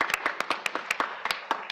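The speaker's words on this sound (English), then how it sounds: "So let's give them a round of applause" A small audience at an evening community health talk claps sparsely, sharp separate hand claps in an uneven patter from only a few people, close and brief.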